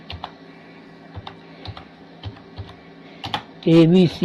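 Steady, rhythmic keystrokes on a computer keyboard as a party name is entered into billing software, crisp and close, with a voice starting to speak at the end.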